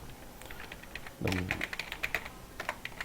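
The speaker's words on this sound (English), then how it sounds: "now I will type the website name" Keys clatter on a computer keyboard in a quick, uneven run of close, light taps lasting a couple of seconds, with a low background hum and no clear speech.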